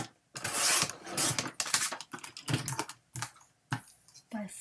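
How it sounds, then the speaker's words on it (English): Paper trimmer cutting cardstock for a holiday folio card, with a string of short scraping and clicking strokes and brief pauses between them, sounding close and fairly loud. "So let's just cut that real quick"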